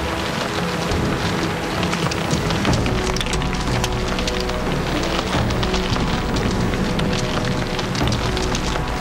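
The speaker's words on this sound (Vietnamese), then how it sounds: "bên ngoài đang có mưa đá" Hail and rain falling outside in a storm: a dense, steady hiss of drops with scattered sharper ticks from hailstones, loud and continuous throughout without any voices.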